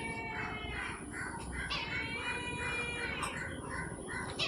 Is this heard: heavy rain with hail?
no